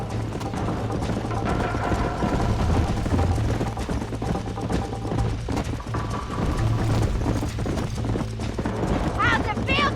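Horse galloping at race pace in the Western video game Red Dead Redemption, steady hoofbeats throughout under game music and ambience, with characters talking over it.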